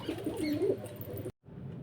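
Low, throaty cooing from a domestic pigeon, fairly close and repeating steadily, then cuts out abruptly into near silence before faint background noise returns.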